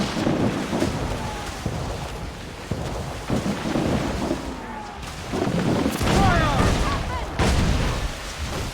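Ship cannons fire in naval combat in Assassin's Creed IV Black Flag, heavy booms recurring every second or so over a constant rumble of wind and sea, with crew voices shouting in the mix.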